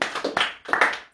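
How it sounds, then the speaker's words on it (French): A church congregation clapping in praise for Jesus during a French-language service, with a few uneven bursts of handclaps close by, broken by short pauses. "Applaudissons encore pour Jésus."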